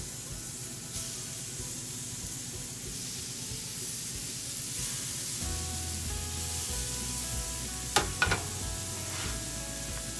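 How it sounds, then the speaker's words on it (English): Bison burgers sizzle on a Blackstone griddle in a steady, close frying hiss, with a few sharp clatters near the end. "I'm gonna go ahead and cook on the BLACKSTONE this morning. These are those bison burgers."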